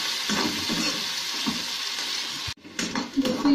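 Chopped garlic cloves and onion sizzle in a hot pan for kadhi pakora with a dense, steady hiss that cuts out abruptly, then stirring scrapes and clinks follow up close.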